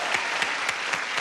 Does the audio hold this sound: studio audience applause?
yes